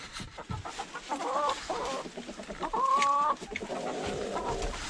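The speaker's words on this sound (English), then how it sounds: "the chickens are eating the heck out of them" Backyard chickens clucking and calling near a new feeder, repeated short tonal clucks in irregular bursts with one longer, louder call midway, steady farm background throughout.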